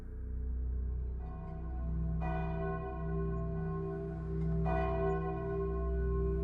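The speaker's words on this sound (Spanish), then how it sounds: "Y las campanas de la iglesia marcan el ritmo de la vida cotidiana." Church bells ring with deep, resonant strikes that hang and hum in the air, a couple of clear peals over a sustained drone.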